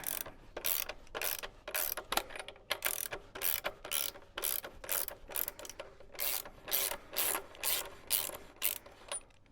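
A ratchet loosens the 27mm rear axle nut on a Surron electric dirt bike, making a series of quick rhythmic clicking bursts, close and fairly quiet, with no talk.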